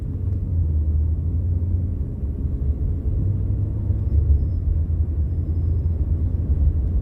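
Strong wind buffets a car cruising the Las Vegas Strip, a steady loud low rumble with roaring gusts and no voices.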